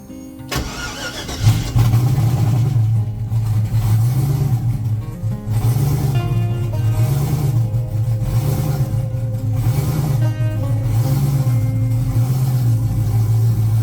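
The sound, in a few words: drag car engine starting and revving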